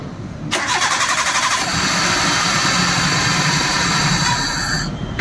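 A Maruti Suzuki Wagon R with a starting problem cranks and then catches, its engine running loud and close with a steady, even drone to the end of the clip. No one speaks.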